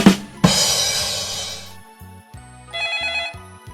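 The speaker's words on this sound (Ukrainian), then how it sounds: "мобільний телефон" A mobile phone rings with a loud electronic ringtone, then a series of short melodic beeping tones repeats in a pattern.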